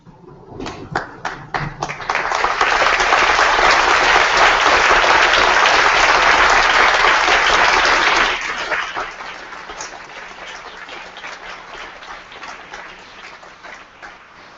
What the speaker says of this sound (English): So would you stand up and applaud those people?